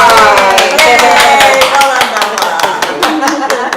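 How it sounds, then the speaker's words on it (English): Loud, close clapping from a small group in a room, sharp and irregular, with voices cheering and talking over it throughout. "Give her a round of applause."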